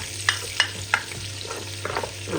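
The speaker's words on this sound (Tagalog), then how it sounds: "Adobo, isikok lang yan." Adobo stirred and frying in a pan, a steady sizzle with a few sharp spatula scrapes and clinks at a regular pace, close and alone.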